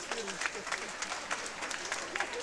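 Audience applause at the Festival Zéro Polémik 2019 comedy show in French, steady clapping from a moderate crowd with a voice talking over it throughout.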